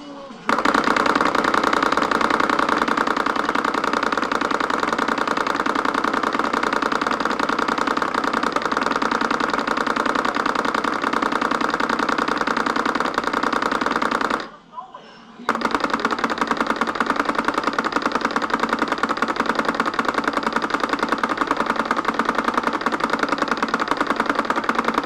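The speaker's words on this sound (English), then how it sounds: "So, like I say, the recoil is quite loud." The true recoil mechanism of a Transformers Shark-Shooter arcade light gun hammers out a loud, continuous rapid mechanical rattle, steady and close, with a single brief pause partway through.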